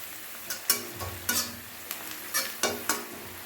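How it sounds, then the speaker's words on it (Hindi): Onions with turmeric frying and being stirred in a pan for dal fry and mixed vegetable curry, a steady low sizzle broken by several sharp clinks and scrapes of a spoon against the pan, close up with no talking. "हल्दी भी डाल दिया। इसको हम थोड़ी इसको भून लेंगे"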